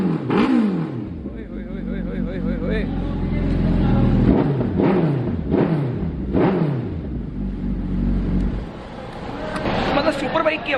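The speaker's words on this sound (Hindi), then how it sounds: "मतलब सुपर बाइक की आवाज़ ना अलग ही हो जाती है" Suzuki Hayabusa superbike engine revved repeatedly, several sharp rising throttle blips and falling decays in quick succession, loud and close with a speaking voice over parts of it.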